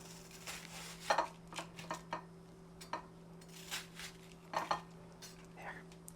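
Knife slicing red fruit into cubes that drop into a bowl, heard as a series of light clicks and taps against the dish, scattered irregularly over a quiet kitchen hum.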